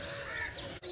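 Birds call in a village after rain, with crow-like caws sounding moderately close over a faint, steady background.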